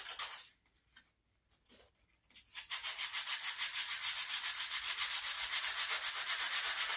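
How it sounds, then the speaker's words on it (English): Freehand sanding of the wooden stock on a .50 caliber St. Louis Hawken rifle, held out of a vise: a few soft scrapes, a pause, then steady rapid back-and-forth rasping strokes, close and even. "I'm just going to kind of freehand sand it all now"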